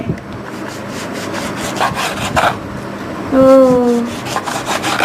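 A knife cuts through the thick rind of a giant bitter lemon with a rough, rasping sawing sound, steady at first and then in looser strokes, close and fairly loud, with a brief tonal squeak midway.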